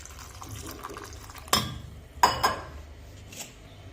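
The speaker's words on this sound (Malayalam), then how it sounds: "ഈ ചക്കയിലേക്ക് ഒഴിച്ചു കൊടുക്കാം." Water poured from a cup into a pan of jackfruit curry for a Kerala village breakfast, giving a couple of short splashing pours near the mic against a quiet kitchen background.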